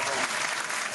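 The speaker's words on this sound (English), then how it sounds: "Let's give him a roaring round of applause" Brief burst of steady applause from a small live audience for a radio show guest at Radio Row in Las Vegas, dense and even throughout.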